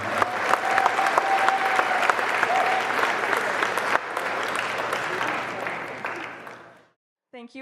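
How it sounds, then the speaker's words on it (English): A wedding reception crowd claps loudly and steadily for several seconds, with a faint tone running underneath, then the applause fades out and a voice begins speaking near the end. "Give them a big round of applause"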